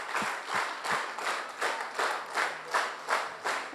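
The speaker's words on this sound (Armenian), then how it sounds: "Եկեք մի հատ շատ բարձր ծափահարենք մեր Տիրոջը" A church congregation claps loudly in unison during a Sunday service, about ten steady rhythmic claps in a row with no voices.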